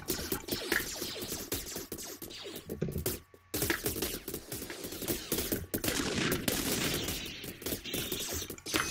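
Pistol gunfire in the sci-fi shooter video game Galaxy Wars: dense, rapid bursts of shots that stay loud through most of the stretch, with a brief lull midway before the firing resumes.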